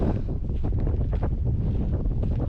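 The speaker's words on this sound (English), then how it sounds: "I do apologise for the wind." Strong wind buffets the microphone on an open former WW2 training airfield at Montrose, a loud continuous rumble with gusty surges and no other sound standing out.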